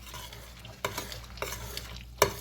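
Casserole ingredients with melting butter stirred in a pan, soft scraping and shuffling under a low sizzle, with a few sharper knocks of the utensil against the pan.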